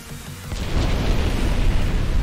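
A torpedo strikes a warship in the naval video game Ultimate Admiral, and a deep, loud explosion swells after a short quiet start, then rumbles on steadily.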